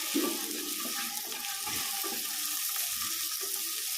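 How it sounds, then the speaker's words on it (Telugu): Water splashes and hisses into a hot pan of seasoned semiya upma, a steady sizzling pour heard close with no talking. "ఇప్పుడు వాటర్ వేసేసుకుందాం"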